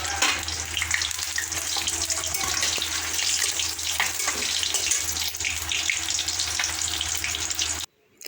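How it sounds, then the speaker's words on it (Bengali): Pieces of fish frying in hot oil until crisp, making a loud, continuous, close crackling hiss with dense popping. It holds steady, then cuts off abruptly just before the end. "আর একবার ভালো করে ভেজে নেওয়া হচ্ছে খুব ভালো করে লাল লাল করে মুচমুচে করে ভেজে নিয়ে"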